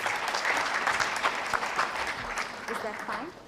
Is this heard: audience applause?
yes